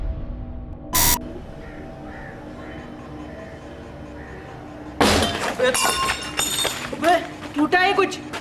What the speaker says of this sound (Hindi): शीशा टूटा है, देख शीशा टूटा है।